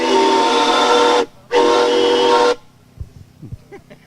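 A 1908 Stanley steam car sounds its steam whistle in two loud, close, sustained blasts with a short gap between them, followed by quieter background noise.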